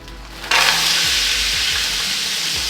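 Peppers and onion with a pepper seasoning blend hit a hot pan and burst into a loud, steady sizzle that holds strong to the end, with a few low knocks of the pan underneath.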